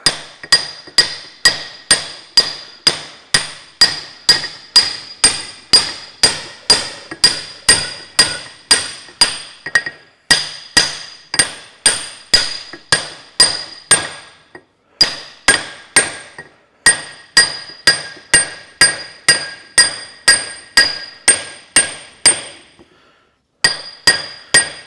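Steady hammer blows drive a bearing onto a Massey Ferguson 65 crownwheel carrier, dozens of sharp metallic ringing strikes at an even rhythm with a few short pauses, loud and close with no talking.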